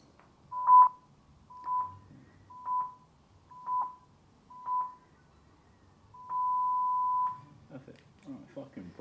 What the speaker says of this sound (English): You're going to hear a few beeps shortly.